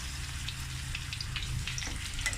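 Onions sizzling with capsicum in a hot pan for a malai chaap dish, a continuous close crackling fry with a low steady hum beneath.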